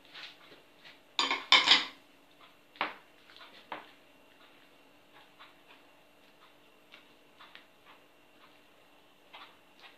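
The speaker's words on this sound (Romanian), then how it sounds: "Amestecăm bine toate ingredientele." Cake dough ingredients, butter included, mixed in a bowl: irregular clinks and taps of a utensil against the bowl, a few louder knocks early then lighter scattered scrapes in a quiet room.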